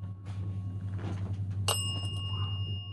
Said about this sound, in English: Thank you for ringing the bell and turning that light on for us.